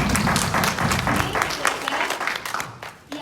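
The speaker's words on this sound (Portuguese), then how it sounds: "vamos dar uma salva de palmas para o Léo." A small church congregation claps for a child in a short burst of applause, dense at first, then thinning and fading toward the end, with a few voices mixed in.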